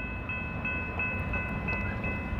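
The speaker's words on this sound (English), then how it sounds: "Westbound UP mixed freight on track two finally got going" Steady low rumble of a westbound Union Pacific mixed freight train rolling past nearby, with a constant high whine and faint clanks over the continuous drone.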